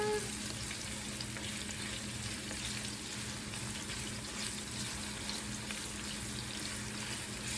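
Yuca frying in a pan while being stirred for a Panamanian salt fish and yuca dish, giving a steady, close, continuous sizzle with scraping stir noises and no talking.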